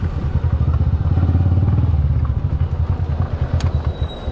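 A rice milling machine's engine runs steadily at a rice mill, a loud, close, rhythmic chugging drone that pulses evenly throughout with a brief clatter near the end.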